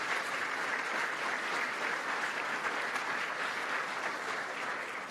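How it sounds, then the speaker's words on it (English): A breakfast-event audience of the Greater Boston Chamber of Commerce applauds the Mayor's Cabinet, dense steady clapping filling a large room before tapering slightly at the end. "I just ask you for a round of applause for all of the members of the Mayor's Cabinet"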